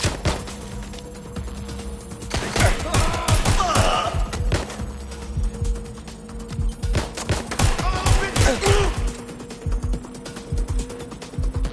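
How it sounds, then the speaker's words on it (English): Heavy gunfire from a target shooting back during a game mission, with repeated bursts of shots cracking in close, over a constant mechanical hum and brief shouted voices. "The target is firing! Shit, I need help! Shooting at us!"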